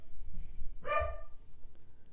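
A single sharp dog bark rings out in a room, clear but at moderate distance, with faint background noise before and after.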